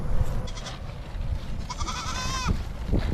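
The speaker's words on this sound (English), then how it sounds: "here's some of our little goats out here" Small goats on a farm bleat close by, with a couple of wavering calls rising over a background of rustling and handling noise.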